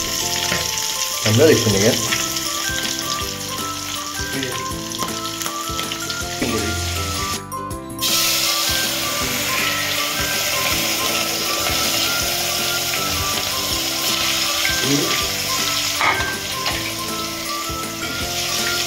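Vegetables sizzle and crackle steadily in a pan in a bachelor room kitchen, with stirring scrapes throughout, a brief loud burst mid-way, and a few short spoken remarks.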